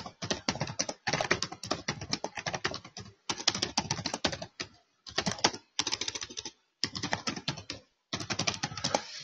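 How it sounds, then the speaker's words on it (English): Keywords are typed into Notepad on a computer keyboard: brisk runs of close, clicky keystrokes in several bursts separated by short pauses, with no talking. "I'm going to go onto Notepad, type in these keywords."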